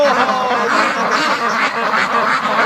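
Ducks kept in a barn quacking in a noisy chorus, many birds calling over one another continuously, close and loud.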